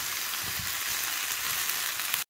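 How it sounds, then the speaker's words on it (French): Onion and chicken feet braising in a frying pan over medium heat, giving a steady, close crackling sizzle that runs unbroken before cutting off abruptly at the end. "Maintenant tout ceci à feu moyen. Laissez le temps à tout ça de bien braiser aussi."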